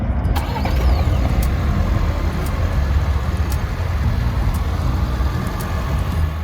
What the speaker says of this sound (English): You can remote start the vehicle.